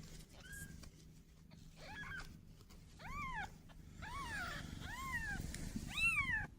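Newborn kittens, only days old, give a run of high, thin meows that grow more frequent and insistent, close and fairly clear over a steady background hum.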